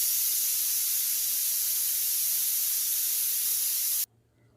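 Steam hissing loudly and steadily from a pressure cooker while vegetables cook on a stove, a continuous close whoosh that cuts off abruptly near the end, with no talk.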